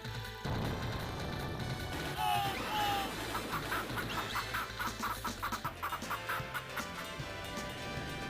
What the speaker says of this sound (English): Why are the chickens at the head of the herd, huh?